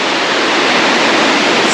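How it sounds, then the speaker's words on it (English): Chamara Waterfall in Bali roars as a dense, continuous rush of falling water, loud and close with no other sounds. "We have waterfall number 3. It's called Chamara Waterfall."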